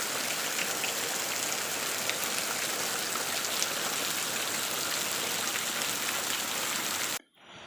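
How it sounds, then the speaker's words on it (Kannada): Heavy rain pours down in a steady, dense hiss that stays loud and unbroken, then cuts off abruptly near the end; no voices. "ಸಿಕ್ಕಾಪಟ್ಟೆ ಮಳೆ."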